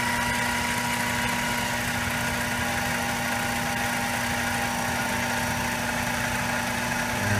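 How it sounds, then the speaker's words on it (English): A CNC mini lathe spinning at about 700 RPM gives a steady, continuous machine hum with a constant whine, loud and unbroken throughout, with no voices. "so the lathe thinks it should be running 700 RPM. So I'm going to fire it up to about 700 RPM."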